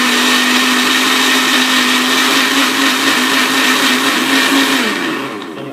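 A blender whirs steadily at full power, mixing strawberry milkshake ingredients with cut strawberries, loud and close for about five seconds before the motor winds down and fades at the end.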